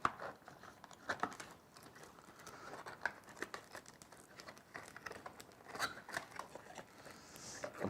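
Al Haramain perfume packaging being repacked by hand, with close crinkling, rustling and tearing of paper and cardboard in scattered bursts, no talk.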